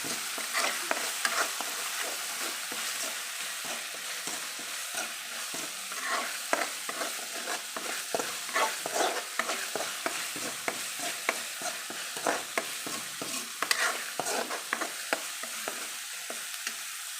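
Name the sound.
roasting ground paste in a pan for a paper roast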